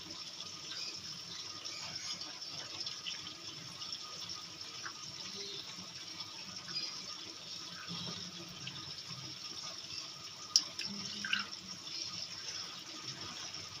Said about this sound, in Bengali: অল্প পরিমাণে জল জল দিয়ে আমি এটা সুন্দর করে মাখিয়ে নেবো